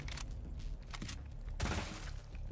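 Quick bursts of gunfire from the Rainbow Six: Extraction shooter, a few sharp shots early and then a heavier, denser volley, fairly close and mixed with other game effects.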